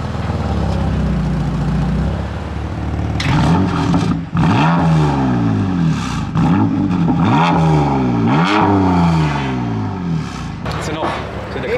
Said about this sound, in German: Machen wir mal einen Kaltstart